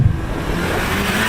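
A tuned VW Golf GTI Mk8 driving on the road, a loud steady engine and road drone heard from inside the car with no talk.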